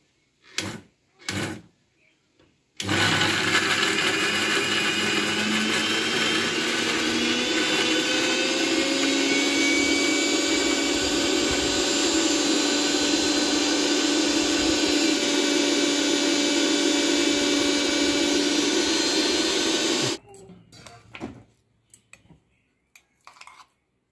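A blender grinds mustard seeds with kharkol leaves in one loud continuous whir of about seventeen seconds, framed by short knocks and clatter of the jar before and after.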